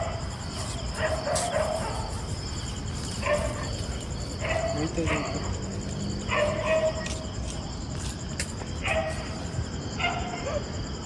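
A dog barks in a park, giving several sharp, yelping bursts spread through the clip at moderate distance, mixed in with people talking and a steady background hum.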